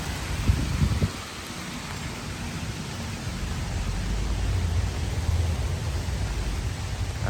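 Heavy rain from a storm in Los Angeles pours down steadily in a dense, close hiss, with a few low rumbles near the start and no voices.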